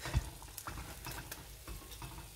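Sfenj doughnuts fry in hot oil with a soft, continuous sizzle and crackle, close and fairly quiet, with a light bump near the start and faint stirring noises.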